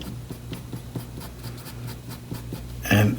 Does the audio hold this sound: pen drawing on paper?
yes